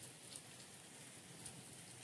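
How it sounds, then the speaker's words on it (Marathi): Heavy rain falls at night as a faint, steady hiss of drops with a few soft patters, continuous and distant, with no voices. "रात्री 1:30 वाजला आहे आणि पाऊस चांगला सुरू आहे"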